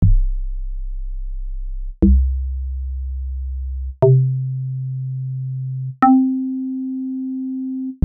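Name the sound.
FM synthesizer bass notes in octaves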